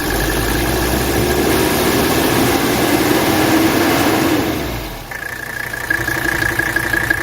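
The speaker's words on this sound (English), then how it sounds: "Perfectly healthy engine" A healthy 1985 Mercedes 300TD Surf wagon diesel engine with 65,000 miles idles steadily up close, a constant clattering drone whose tone shifts and softens briefly about two-thirds of the way through.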